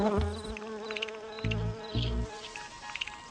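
Solitary bees buzz while visiting flowers, close-up, in several short, loud bursts of droning between quieter pauses, with no voices.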